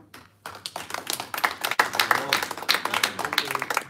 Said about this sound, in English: First applause. Hat funktioniert.